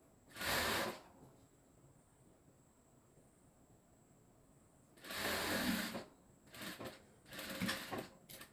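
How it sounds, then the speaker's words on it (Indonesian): Sewing machine stitching khimar fabric with a back-stitch seam, three short bursts of whirring stitches, one near the start and two later, separated by quiet pauses. "Setelah dijahit seperti ini, kemudian jahit bagian sisi lengan ke ujung bawah khimar."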